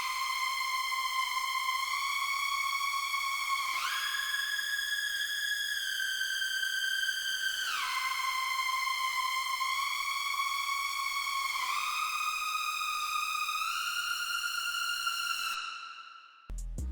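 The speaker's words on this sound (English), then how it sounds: "next sound up is a lead from Serum" A Serum synth lead in an FL Studio rave-style beat plays a sustained, bright gliding tone that steps between pitches every few seconds, smooth and continuous with no other parts, cutting off abruptly near the end.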